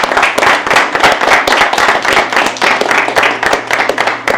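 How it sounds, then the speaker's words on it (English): A church-style congregation claps loudly for the Lord, many hands in a brisk, uneven patter with sharp close claps standing out, continuous and energetic throughout. "So give the Lord a mighty clap for what He's done."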